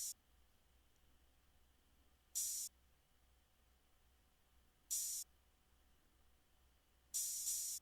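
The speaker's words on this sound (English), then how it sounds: "was actually just an open hat" Open hi-hat sample from a trap beat, four bright, hissy sizzles that ring briefly and cut off, spaced about every two and a half seconds over near silence.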